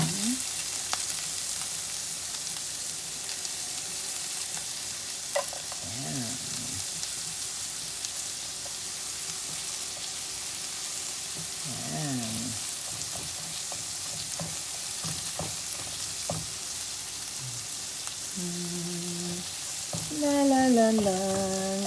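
Onion and garlic frying in a pan, a soft continuous sizzle running under the whole stretch, with faint clinks and a few short tonal sounds in the background.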